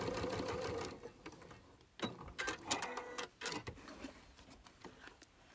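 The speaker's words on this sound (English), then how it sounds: "top stitch all the way along" A sewing machine top stitching along a zip pouch with a lengthened stitch, running in steady mechanical bursts with short pauses, close and fairly quiet.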